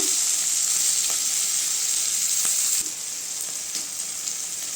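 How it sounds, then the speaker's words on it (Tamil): Chopped tomato sautés with softened onion in a pan for a potato kurma, a constant close sizzle with occasional light clicks of stirring, no one talking. "இப்போ தக்காளி சேர்த்துக்கலாங்க தக்காளி நல்லா வதங்கட்டுங்க"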